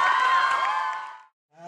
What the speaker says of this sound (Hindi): फिर एक बार जोरदार ताली बजाएं इनके लिए।